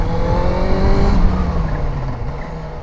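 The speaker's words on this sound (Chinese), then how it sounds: "你们现在应该可以听得到它的声浪啊， 其实就是处在一种低沉饱满的声音。" A classic red-plate four-cylinder motorcycle with its stock exhaust revving up a slope, a loud, deep and full engine note climbing in pitch then easing, close and continuous with no talk.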